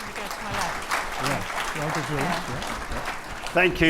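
Audience at a panel discussion applauding to welcome the panelists, steady dense clapping throughout while voices talk over it.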